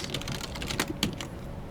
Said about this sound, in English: then we could type this